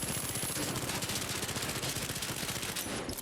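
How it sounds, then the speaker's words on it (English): A medium SMG in The Finals firing one continuous rapid burst, loud and close, the rattle of shots evenly spaced for its whole length with no talk over it. "let's look at the medium SMG. How's the recoil?"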